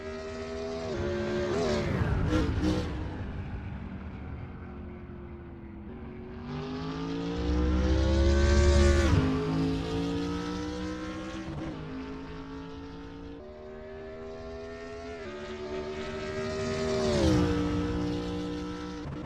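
A BMW Z4 GT race car engine in Assetto Corsa, GT2/GT3 series, on mediums at Imola. Loud, buzzy revs climb repeatedly through the gears, with brief dips at each shift, and the engine passes close by.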